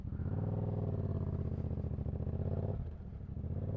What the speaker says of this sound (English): so you can hear this beautiful Yamaha FZ07/MT07 with a TOS exhaust